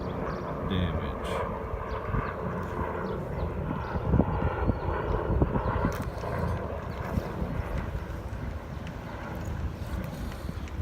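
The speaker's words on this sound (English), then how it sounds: "Sounds like there's a helicopter coming over to survey the" A helicopter passes over the flooded Missouri River at Rulo, Nebraska, its low, rumbling drone continuous and fairly distant beneath wind and outdoor noise.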